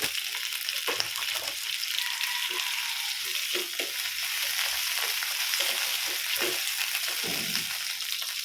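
Leftover chicken lechon fries in olive oil in a pan, giving a continuous bright sizzle with bursts of spattering, close and fairly loud, with no talking.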